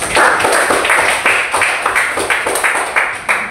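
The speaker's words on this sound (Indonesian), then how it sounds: "Benar, kasih tepuk tangan dulu." A classroom of children claps their hands together in a brisk, uneven burst of rapid slaps, loud and close, fading slightly toward the end.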